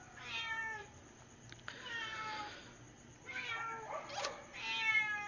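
A cat meows repeatedly nearby, several drawn-out cries separated by short pauses over a quiet background.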